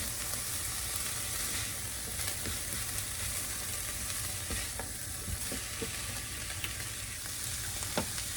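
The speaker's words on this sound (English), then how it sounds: "I'm gonna go ahead and put my turkey bacon bits in and let them start warming up." Turkey bacon bits sizzling in a pan while cooking succotash, a steady dense frying hiss with occasional stirring clicks and pops throughout, no talk.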